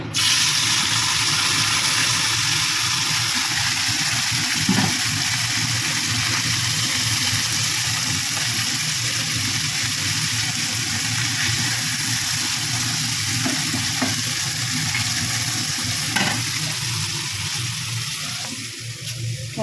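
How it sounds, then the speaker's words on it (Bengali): A kitchen chimney range hood runs over fish frying in a pan, a steady, loud broadband whoosh mixed with sizzling that holds without a break throughout. "চিমনিটা চালিয়ে দিলাম, আওয়াজ পাবে তোমরা"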